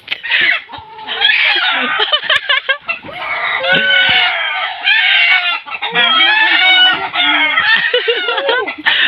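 Loud, close chickens clucking and squawking continuously, with crowing mixed in, filling the whole stretch.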